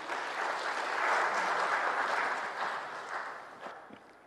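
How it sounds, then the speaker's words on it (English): A room of guests at a State House gathering with ambassadors in Dar es Salaam gives an ambassador steady, full applause that swells for a couple of seconds, then thins and fades out. "Please, a round of applause to him."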